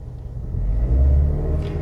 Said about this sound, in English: We just started the car, so it's not warmed up all the way yet.